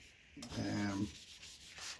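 A cloth wiping on wood finish rubs across a wooden surface in a single firm stroke, followed by a softer, lighter swipe.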